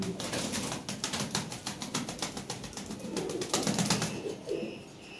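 A pair of red Lahore pigeons coo in soft, rhythmic, repeated low calls, fairly close and faint, with light chirps and rustling in the background.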